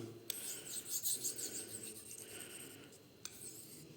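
A blade is rubbed steadily across a Japanese Nakayama Kiita natural sharpening stone, giving a close, quiet rasping scrape in repeated strokes with a couple of sharp clicks.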